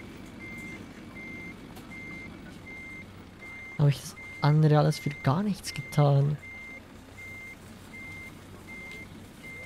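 A truck in a driving simulator game sounds steady, evenly spaced reversing beeps over a low engine drone, while someone talks loudly partway through.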